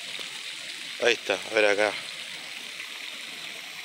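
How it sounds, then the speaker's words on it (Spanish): The Arroyo Catonas, a stream feeding the Reconquista river in Moreno, gives a faint, steady rushing hiss from start to end, briefly interrupted by someone speaking. "Este es el arroyo."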